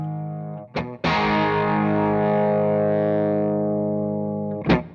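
An electric guitar played through a BigFoot distortion pedal into an amplifier rings out as a loud, thick, sustained distorted chord that slowly decays, framed by sharp pick attacks and string scrapes at start and end.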